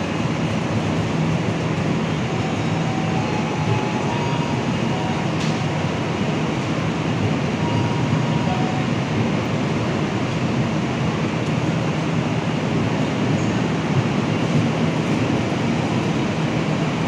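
The KA Jayakarta train pulls out of Purwokerto station at night, a steady continuous rumble of rolling wheels and carriage noise, even in level throughout with no talk.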